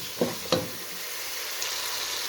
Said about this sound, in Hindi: इसको मज़ीद हम फ्राई करेंगे, 2-3 मिनट तक फ्राई।